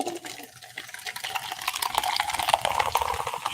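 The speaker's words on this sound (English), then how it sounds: "Cheers, lemon LaCroix. And pour this into a glass." Lemon LaCroix sparkling water pours into a glass, a close, steady fizzing splash that swells and grows denser over a few seconds, with no talking.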